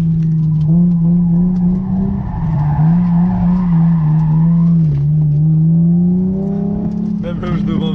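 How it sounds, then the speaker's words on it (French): A car on a Moroccan track day drifts sideways through corners on worn tyres, a loud continuous tyre squeal wavering in pitch over the engine drone, close and sustained throughout. "Les pneus qui ont pris cher, donc vous allez voir que les virages, on est sur du Tokyo Drift typique."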